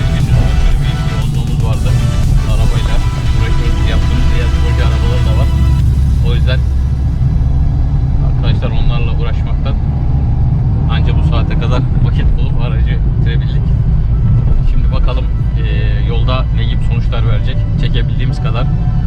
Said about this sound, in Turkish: Şu anda geç saatte aracı deneyebiliyoruz.